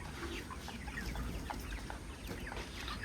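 Chickens clucking at an agro farm in Natore, a steady low murmur of overlapping hen calls mixed with scattered sharper clucks over constant barnyard background noise, no talking.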